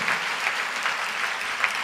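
Steady, dense clapping from a church congregation at a Telugu Christian sermon, loud and continuous throughout with no voices over it.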